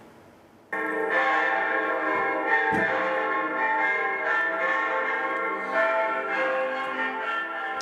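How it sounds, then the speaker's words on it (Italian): Church bells ring out together in a full, festive peal at a funeral, with overlapping tones clanging steadily and rich metallic overtones hanging in the air. "Le campane suonano a festa"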